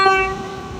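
A train horn sounds loud and close in a single sustained blast that swells then slowly fades, with a low rumble of rail traffic underneath.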